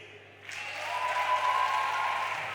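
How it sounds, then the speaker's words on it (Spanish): Applause from a live audience at a summer festival stage show in Cerdanyola, rising after a brief quiet moment and holding steady as a moderate wash of clapping. "Pot aplaudir als fans de Crims."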